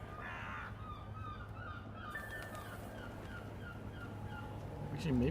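Crows cawing in a video game, several harsh caws repeating in a loose rhythm over a steady low in-game hum, with a louder burst of sound near the end.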